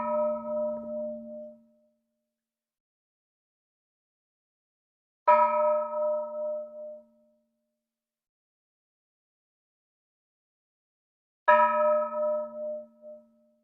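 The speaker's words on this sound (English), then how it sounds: "The bronze bell is hanging in a very strong steel construction placed on a wooden frame." A large antique bronze Burmese temple bell, hung in a steel frame on a wooden stand, is struck three times at even intervals, each strike ringing out alone with a bright clang and a humming decay of about two seconds.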